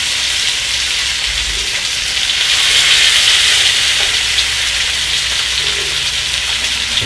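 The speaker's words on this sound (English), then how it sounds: "And you could see the flames coming on the tawa, and in goes the fish." Fish frying in coconut oil on a hot cast iron tawa over open flame gives a steady, loud, close sizzle with crackling spatter that holds throughout, with no talking.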